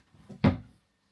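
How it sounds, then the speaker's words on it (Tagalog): A drawer slides with a brief soft rub and then shuts with a single dull wooden knock at close range in a quiet room, with no talk. "Ilagay ko ito dito sa drawer."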